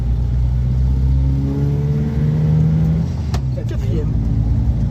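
A Simca Aronde's engine pulling through its four-speed gearbox, a close, steady drone rising in pitch with each gear, while people talk inside the car.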